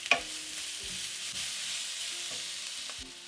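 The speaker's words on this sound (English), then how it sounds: "Once the onions have got some color here, we are going to add about a tablespoon of our garlic ginger paste. Give everything a stir here." Browning onions with a spoonful of garlic ginger paste sizzle steadily in a pan while a spoon scrapes and stirs through them, a few sharp knocks against the pan landing over the constant frying hiss.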